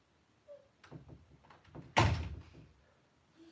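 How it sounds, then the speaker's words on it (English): A door closes indoors with a single solid thunk, preceded by faint shuffling and small knocks, then quiet. "Close door, please."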